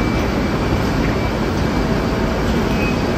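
A continuous, loud rumble of a BART train in motion in San Francisco, steady and enveloping as if heard from onboard, with no talking.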